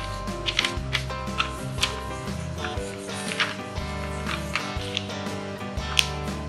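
The non-working side of a keyboard being cleaned by hand, with scattered light clicks and taps close by, irregular and rapid, over a steady low electrical hum.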